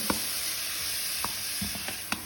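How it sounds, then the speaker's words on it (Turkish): Mushrooms with onion and red peppers fry in a pan in a constant, close, hissing sizzle, broken by a few sharp taps and scrapes as the mix is stirred. "Ve mantarlar sotelenene kadar bir miktar kavuracağım"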